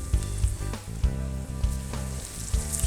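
Homemade paste with garlic and tomato hitting a hot pan, giving a steady close sizzle broken by rhythmic scraping and stirring knocks, with no talking.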